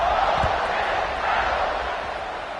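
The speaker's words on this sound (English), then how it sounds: "this crowd is buzzing after that last score" Large football stadium crowd at Ohio State versus Ole Miss, a broad, steady roar of buzzing fans after a score, heard as a dense wash with no distinct voices.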